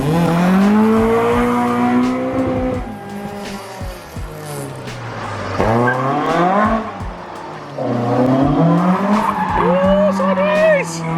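A Mini car with a hydraulic handbrake slides sideways, its tires squealing and engine revving loudly in repeated rising surges, while people talk over the noise.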